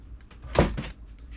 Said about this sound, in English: these are the full extension drawers. I love it. Soft close.